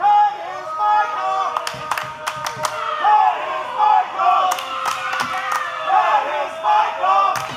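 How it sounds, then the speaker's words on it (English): A wrestling crowd at a women's title street fight roars and shouts continuously, with rising and falling waves of cheering and sharp bursts of noise throughout, loud and close. "I mean, you hear the crowd, Eric."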